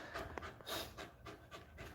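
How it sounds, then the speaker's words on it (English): A Doodle dog pants close by, quick rhythmic breaths right up against the listener, steady and fairly soft for a couple of seconds with no talking. "her panting right in front of my face is not helping at all."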